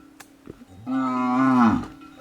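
A village cow lets out a single clear moo lasting about a second, close and loud, with faint outdoor sounds around it.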